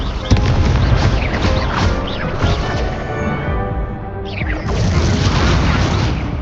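Spell blasts from a wizard duel in Hogwarts Legacy, loud booming explosions rolling one into another with a brief dip before a fresh burst, under shouted incantations.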